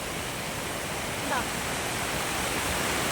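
Steady, broadband rush of a waterfall near Kottarakkara in Kerala, close and continuous for the whole stretch, with no voices over it.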